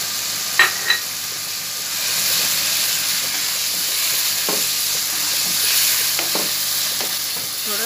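Chopped onion frying in a pan with black pepper and salt, a steady even sizzle and hiss throughout, with a few sharp clinks of stirring near the start and scattered light taps later.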